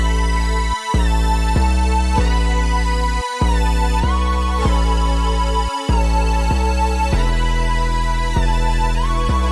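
Two Juno synths, one playing chords and one a squared-off lead, layered with an 808 bass, run as a loud, continuous loop. Sustained chord stabs change in a steady rhythm, with brief gaps between phrases.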